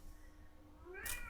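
A cat lets out a single short, rising meow toward the end, faint and in the background against a low steady hum.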